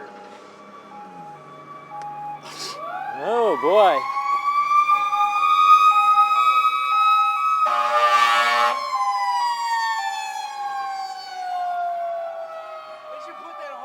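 Emergency vehicle passing a roadside motorcycle meet-up, its siren wailing and sweeping in pitch with a loud air-horn-like blast partway through, rising to a peak then tailing off; someone speaks briefly.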